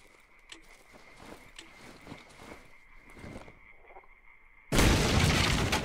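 Gas canisters blow apart a door in the Darkwood video game: a single sudden, loud, sustained blast bursts in after several seconds of quieter clattering and ambient game sound.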